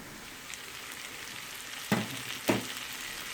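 Minced meat sizzling in a pan with softened, translucent onions for hachis parmentier, a steady frying hiss with two sharp clatters of the meat going in or being stirred, no voices.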